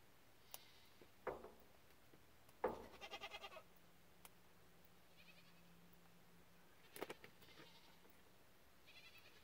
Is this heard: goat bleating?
yes